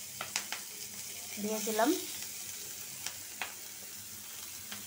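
Chopped onion and green chili hit hot oil in a pan for a sim and potato bhaji, giving a steady close sizzle with a few sharp clinks, while a voice speaks briefly near the start.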